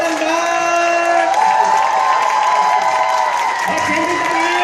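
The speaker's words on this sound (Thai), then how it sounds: "เสียงปรบมือดังๆให้กับคุณโฮตันเบิร์ก" Sustained applause and cheering from a large crowd at a live event in Bangkok for Holton Buggs, with steady clapping, occasional whoops and a voice calling out over the noise throughout.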